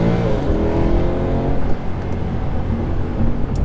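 A 2013 Mercedes C63 with a differential accelerates hard while driving, its V8 engine roaring loudly from inside the car with rising pitch through the pull.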